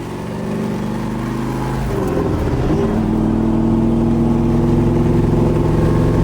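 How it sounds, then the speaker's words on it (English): A 1969 Corvette with a factory 427 big block V8 and four-speed, driving: a loud, close, continuous engine drone with harmonic tones that dip and rise again as the car shifts, then holds a steady cruising pitch. "factory 427 is insane. It's a 69 too. It's not like a smogged out 427."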